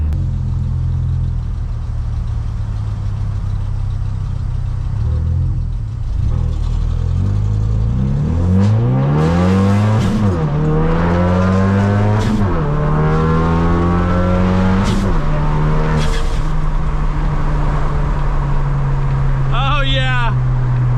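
A 450-horsepower Ford Focus RS idles, then accelerates hard through several gears, its engine note climbing and dropping with each shift, loud and close from inside the car with people talking over it.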